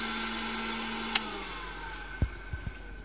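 A 1993 Shmel Auto 2 car vacuum cleaner runs with a steady, even motor whine throughout, broken only by a few brief clicks and knocks near the end.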